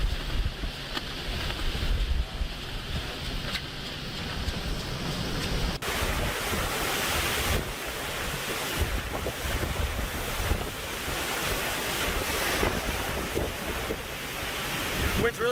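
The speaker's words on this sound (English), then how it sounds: "Wind's really picking up now." Strong Hurricane Laura winds roar loud and steady near midnight, rumbling against the microphone with constant gusty buffeting that swells and ebbs but never stops.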